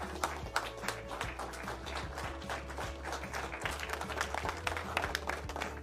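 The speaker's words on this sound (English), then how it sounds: "Let's give Ryan Reeves another round of applause." Crowd applause at a Santa Cruz versus Oklahoma City basketball game honoring Captain Ryan Reeves, sharp claps scattered over a steady arena hum and low music, moderately distant.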